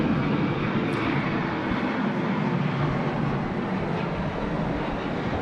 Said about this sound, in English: Qantas 737 just getting away there under cover